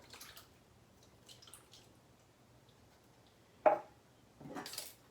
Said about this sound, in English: I have here a 20-ounce can of diced tomatoes. I'm just going to go ahead and drop that in here